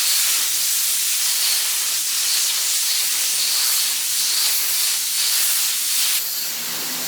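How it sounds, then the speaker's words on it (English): A paint gun sprays adhesion promoter onto bare plastic in a steady, close, broadband hiss that holds for several seconds with slight fluctuations and no voices. "I got some adhesion promoter here in the old sweet paint gun, and we're just going to go like this and put a couple light coats on her."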